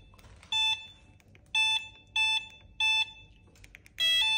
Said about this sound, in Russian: можно запустить сигнализацию быстрым нажатием кнопки переключения скоростей